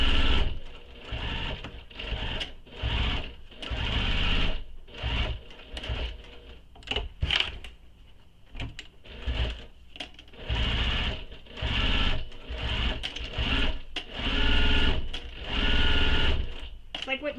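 A sewing machine stitches a crossbody bag in rapid bursts of whirring, stopping and restarting repeatedly, close by, with a voice talking between runs.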